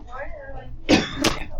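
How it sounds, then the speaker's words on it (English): A couple of short, harsh coughs close by, following a brief stretch of someone talking. "Of course, I start coughing as soon as I can start teaching."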